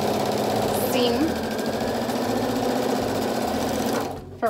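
A sewing machine runs slowly and steadily along a quarter-inch seam, its motor hum and stitching clatter filling the clip at close range before stopping abruptly near the end.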